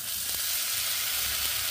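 Tempering for tomato mint chutney sizzles in a pan, a loud steady close frying hiss with faint low stirring bumps and no talking.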